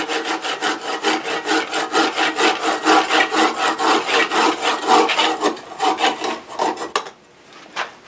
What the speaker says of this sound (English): I'll show you my little Japanese saw. And as I'm doing this, I like to rotate the lathe.